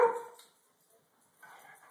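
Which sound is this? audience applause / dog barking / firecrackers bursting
dog barking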